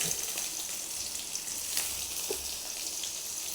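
Onions dropped into hot oil with mustard seeds and fenugreek, a quiet, steady sizzle with scattered small crackles and pops, heard alone without voices.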